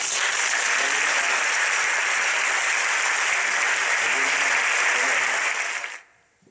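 A church congregation applauds to welcome its pastor at a Christmas Sunday service, a dense, loud, steady clapping that lasts about six seconds and then cuts off abruptly.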